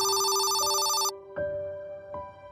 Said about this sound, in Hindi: घर आकर हमने मीना को फोन लगाया